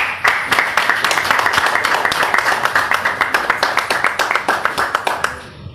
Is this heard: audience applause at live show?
yes